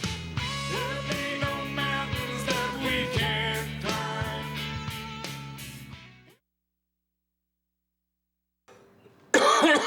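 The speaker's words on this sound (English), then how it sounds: "It's a cough that says you should take a drink of water." Tonal music plays, fades into silence, then a single sharp cough from a film bursts out at the very end.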